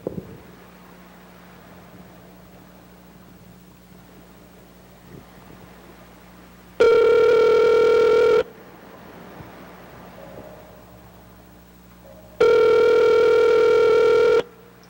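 Telephone ringing before a voicemail message plays, heard as two long, loud electronic ring tones, each about two seconds, separated by a pause with low background hum.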